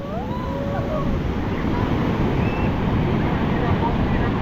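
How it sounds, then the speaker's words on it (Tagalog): Strong ocean waves roll at a beach, a continuous loud wash of surf with rushing wind across the microphone and faint voices sitting beneath the steady roar. "Lakasan ng alon mga idol oh."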